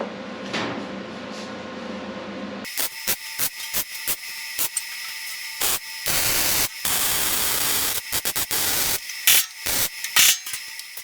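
Spot welding on cockpit panels in a crate racing car gives bursts of loud crackling, hissing arc noise, some short and some sustained, broken by quiet gaps after a low hum.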